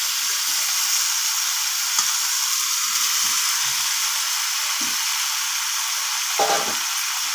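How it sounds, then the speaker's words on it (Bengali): Fried potatoes and pointed gourd cooking with spices, soybeans and chickpeas, a loud, even, continuous sizzle with a few faint scrapes of stirring, with no voices. "আলু পটলগুলোকে সব একসাথে আবারও একটু নাড়িয়ে চাড়িয়ে নেব"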